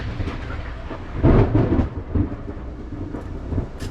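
Thunder rolls in as a storm starts outside: a heavy, rumbling boom swells and fades over a few seconds, followed by lighter distant grumbles over a steady hiss of background noise, with no voices.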